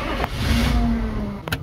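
An old truck engine cranks and turns over, trying to start, a loud sustained whirring drone, then breaking off abruptly near the end.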